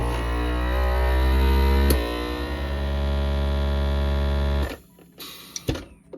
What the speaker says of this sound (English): This is my Food Saver FM 5200. Turn on the power and hit accessory.